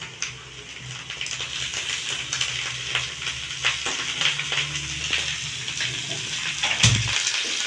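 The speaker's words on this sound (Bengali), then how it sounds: "এর মধ্যে আমি বাঁধাকপিটা সেদ্ধ করে রেখেছিলাম দিয়ে দেবো।" Boiled cabbage being stirred and fried in a pan for shop-style chow mein, a steady sizzle with scraping stir strokes throughout and a louder clatter near the end, no talking.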